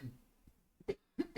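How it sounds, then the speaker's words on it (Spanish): A man with a bad cough lets out a few short, dry coughs and throat clears, close and fairly loud, in quick succession with brief pauses between. "estoy pero re mal de la tos"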